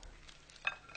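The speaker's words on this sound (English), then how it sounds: "Let's give this a stir." Bread being stirred into tomato soup in a pot, a short soft wet scraping and squelch with a brief louder clink near the middle, heard alone at close range.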